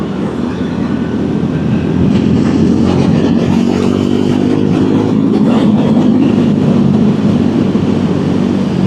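Triumph Scrambler 400X motorcycle with a 15-tooth sprocket on a motorway, dropping two gears into fourth, its engine note rising through heavy wind and road rumble that stays loud and continuous throughout.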